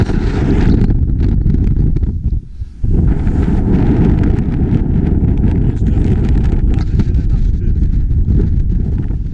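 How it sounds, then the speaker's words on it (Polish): Strong wind blows over a mountain climb, buffeting the microphone in loud continuous low roaring gusts with a brief lull midway. "strasznie wieje"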